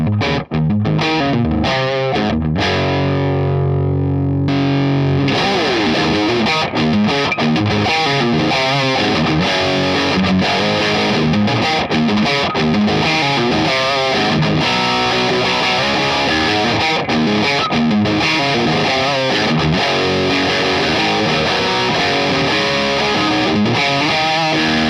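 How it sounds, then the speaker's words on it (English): Electric guitar driven through a Tube Screamer-style MXR overdrive pedal plays a steady, loud distorted riff, with a thinner passage in the first few seconds before a dense sustained crunch takes over. "So they're super cheap for a really good quality tube screamer style pedal"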